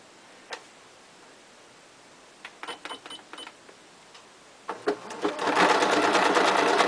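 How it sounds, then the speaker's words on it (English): A home sewing machine stitching dark brown thread along a line on a fabric bunny ear; a few light clicks and short bursts give way to a steady, close mechanical whir of continuous stitching. "Now I've loaded dark brown thread into the sewing machine, and I'm going to go along this line we made in the bunny's ear"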